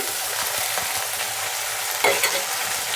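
Tomato pieces, eggplant chunks and fresh field beans stirred in a frying pan for a tamarind stew, with a steady close sizzle and repeated scraping strokes of a spoon, a sharper clatter near the end, and no talking.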